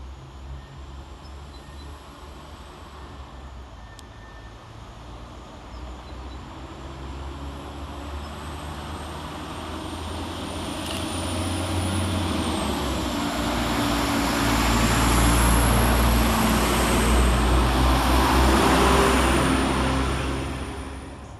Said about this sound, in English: Arriving to terminate with a Northern service from Clitheroe is 150005.